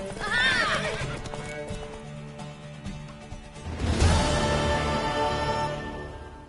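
Horse neighing with clip-clopping hooves in the video game The Witcher 3, a loud whinny at the start and a second surge midway, hoof beats and game sounds underneath, with voices speaking.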